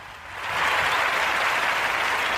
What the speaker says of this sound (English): We're gonna give them another round of applause. Go ahead, clap it up for them.